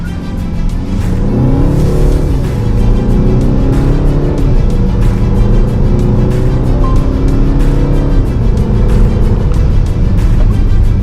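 A 2023 Citroen C5 Aircross in drive and normal mode accelerates hard from 0 to 100 km/h, the engine note rising steadily through gear changes, loud and close from inside the cabin with no talking.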